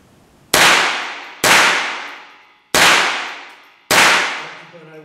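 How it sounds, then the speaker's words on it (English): Ruger semi-automatic rifle firing at an outdoor firing range, four loud sharp shots spaced about a second apart, each ringing out and decaying before the next. "Yeah, just keep firing."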